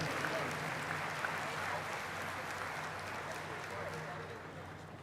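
A state party convention audience applauds in a large hall, a broad, sustained wash of clapping that holds steady and slowly tapers over several seconds, with no talk over it.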